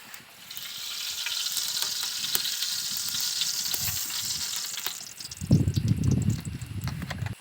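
Ghee sizzling in a pan for a South Indian jaggery payasam, a steady bright hiss held close throughout, joined near the end by louder bubbling and stirring noise.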